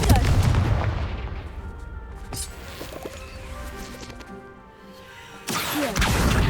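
Confringo fire spell explosions in the video game Hogwarts Legacy, booming blasts with crackling debris and whooshes, a loud burst at the start and another near the end amid game effects.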